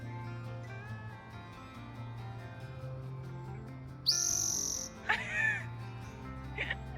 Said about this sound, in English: There's that loud bird. It's like yelling.